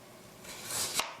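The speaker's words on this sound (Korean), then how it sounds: "당근도 캐럿 하나, 둘, 얇게 슬라이스" A knife thinly slicing carrot on a cutting board, a brief run of soft, close cuts ending in one sharper chop, quiet and free of any talk.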